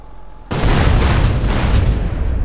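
A Berkeley's RC van blows up in GTA San Andreas, a sudden loud boom at half a second that rolls into a sustained roaring, crackling blast of noise, with no talk over it.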